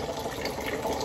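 A mac and cheese pot fills with water from a kitchen tap, giving a close, steady rushing gush of water that runs without a break.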